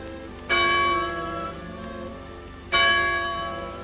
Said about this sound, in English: the tolling bell summons the faithful to their church.